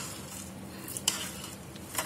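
A rice mixture for instant ketupat is stirred in a container, soft scraping strokes and a couple of light clinks over a faint, quiet background, with no speech.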